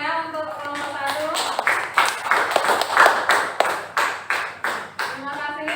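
Audience applause for a presenting student group after a nursing presentation on warm water compresses: steady, lively clapping from a room of people lasting several seconds, close and full.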